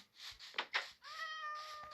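A cat in Minecraft meows faintly a few times, short soft cries followed by a longer drawn-out mew, with no talking.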